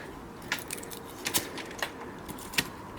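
Winter pruning of a grapevine with hand secateurs outdoors: a handful of crisp, sharp snips spaced irregularly over light rustling of cane and background noise, with no talking.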